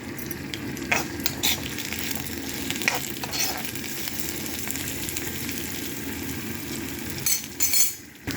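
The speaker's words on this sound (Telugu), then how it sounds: "పోపు గింజలు వేస్తున్నా అండి. ఇవి ఎర్రబడాలండి, ఎర్ర అయ్యేదాకా వేయించుకోవాలి." Steady crackling sizzle of seeds frying in hot oil, with occasional scrapes and clinks of a spoon stirring the pan, no voices.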